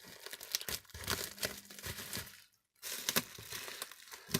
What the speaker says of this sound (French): Alors, je vais ouvrir le papier bulle.